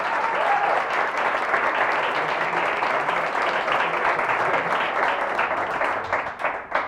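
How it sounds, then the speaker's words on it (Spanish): A congregation at an Easter Vigil Mass applauds in a church, a dense continuous wash of clapping hands that holds steady and then thins out toward the end. "Entonces aplaudan al Señor."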